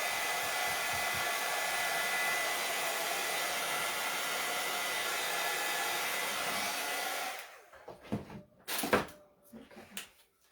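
A hair dryer blows steadily and loudly on paint drying on a decorated plate, then cuts off at about seven seconds, followed by a few faint knocks and handling sounds.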